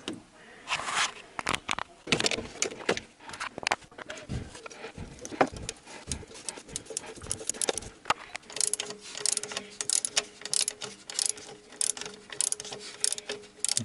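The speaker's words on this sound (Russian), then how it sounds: "Сворачиваем последнюю гайку." Close ratchet clicks come in quick bursts while nuts are unscrewed on the cylinder head of a VAZ 2109–2115 car during disassembly, with metallic taps and clatter between the bursts and no talk.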